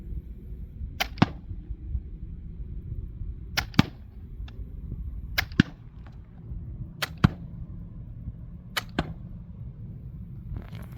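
A less-lethal medium-range launcher fires single semi-automatic shots, sharp loud cracks spaced a second or two apart, several in a row over a steady low background rumble.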